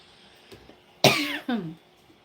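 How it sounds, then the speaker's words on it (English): A pair of sharp coughs close by, the first harsher and longer, the second shorter, after a brief quiet lead-in. "I just hate when I'm doing videos coughing."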